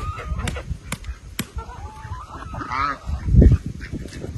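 Ducks and chickens jostle over thrown fruit, with close honking quacks and clucks, scattered pecking and rustling, and a louder burst of squawking near the end.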